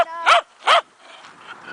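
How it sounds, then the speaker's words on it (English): A dog gives two sharp, loud barks close by, spaced about half a second apart, then falls quiet apart from faint background sound. "If you don't stop barking, you're going to have a bath."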